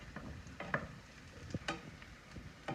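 Garlic in olive oil heating in a pan on the stove gives off a faint, low sizzle, with scattered stirring scrapes and soft clicks of the utensil against the pan.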